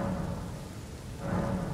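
Rain falls steadily in the Elden Ring video game, a continuous broadband hiss with low rumbling underneath that swells slightly toward the end.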